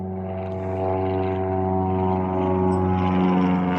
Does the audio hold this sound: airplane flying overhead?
yes